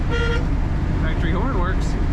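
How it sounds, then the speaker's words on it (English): A 1957 Ford Ranchero's factory horn gives a short, loud honk over steady engine and road noise inside the moving car, and a voice speaks alongside it. "Factory horn works."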